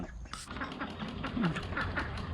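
Ducks quack softly at a farm duck pond, a handful of raspy calls scattered over a low outdoor background with some faint rustling.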